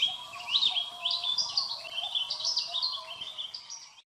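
A small bird sings a rapid, high twittering song of chirps and trills that runs for about four seconds, close and clear, with no other sound under it.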